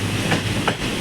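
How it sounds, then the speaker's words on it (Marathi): A train rumbles past near the Dudhsagar waterfall during the monsoon, a steady close roar with faint rhythmic clatter, no voices. "कशी ट्रेनने कव मारली बघा."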